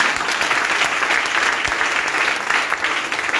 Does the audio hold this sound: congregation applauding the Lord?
yes